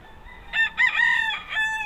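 Pet rooster crowing outdoors in sunny weather, one loud, close, drawn-out cock-a-doodle-doo broken into several strained bursts over a quiet background.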